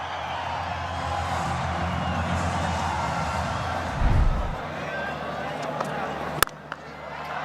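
A cricket crowd at a Pakistan versus Sri Lanka ODI cheers a Babar Azam shot, a broad, steady roar of many voices that stays loud throughout, with a brief burst of noise midway and a sharp click near the end.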